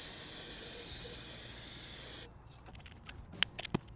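Fluid hissing steadily from a disconnected banjo-bolt line on a totalled Chevy Silverado into a drain pan, a loud continuous spray that cuts off abruptly, leaving faint scattered drips and small clicks.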